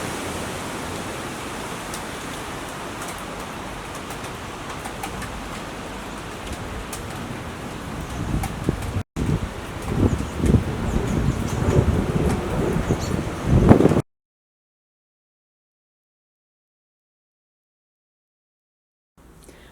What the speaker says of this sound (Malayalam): ഭയങ്കര കാറ്റ് വീശിക്കൊണ്ടിരിക്കട്ടെ ഇവിടെ